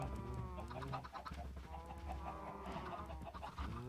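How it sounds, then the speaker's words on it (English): Chickens cluck and chatter continuously in a Minecraft-style survival game farm, several birds close together over a steady low background hum, with no talking. "Let's grab some seeds, actually, and breed up the chickens that we've got here"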